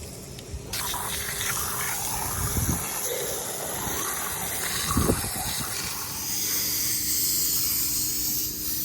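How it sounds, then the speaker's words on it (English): Water from a hose sprays into the engine bay of a 2006 Chrysler 300C with a 5.7 Hemi as Purple Power degreaser is rinsed off. The hiss is steady and close, with a few louder gushing bursts. "We cleaned the engine bay down with purple power and sprayed it on down."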